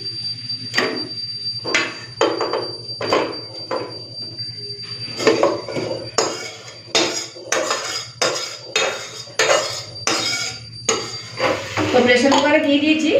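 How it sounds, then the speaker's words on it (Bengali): Spicy braised chicken curry scraped and tipped from a pan into a pressure cooker, a steady run of loud, close metallic clanks and scrapes of a spoon against metal, evenly spaced, with a short stretch of voice near the end. "বসিয়ে দিলাম প্রেশার কুকার এখন কষা মাংসটা দিয়ে দিই"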